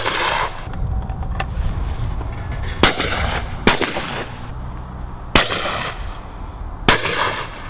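Shotgun shots at a sporting clay shoot ring out outdoors, four sharp loud blasts spaced a second or two apart over steady wind and background rumble.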